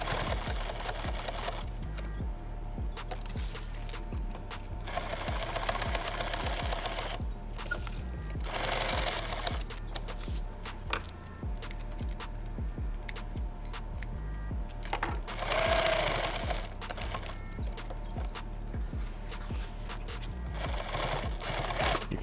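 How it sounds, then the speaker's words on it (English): A sewing machine stitches Velcro onto a Thermacell pouch, running in steady close bursts of rapid mechanical chatter with brief pauses between runs. "Sew down the middle of the Velcro if you want to."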